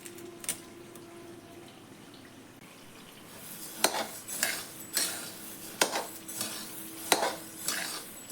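Coriander seeds dry-roasting in a pan at home, with a faint steady sizzle and repeated scraping stirs of a spoon against the pan, close and clear with no talk.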